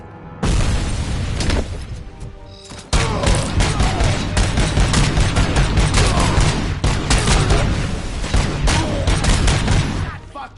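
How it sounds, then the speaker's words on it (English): Grenade blasts and rapid gunfire in the Robocop video game: a dense, loud barrage of shots and booms that pauses briefly near the third second, then resumes and continues to the end. "Oh, that's a grenade."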